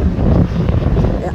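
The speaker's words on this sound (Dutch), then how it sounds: "het waait hier" Steady wind buffeting a microphone, a low rumbling roar that stays constant throughout the short clip.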